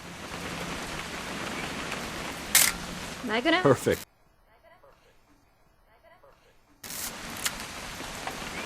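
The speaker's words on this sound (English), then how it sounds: "It's gonna rain the whole weekend, isn't it?" Rain falls in the video game What Remains of Edith Finch as a steady broadband hiss, broken by a sharp click. Brief talk follows, then near silence for a few seconds before the rain resumes.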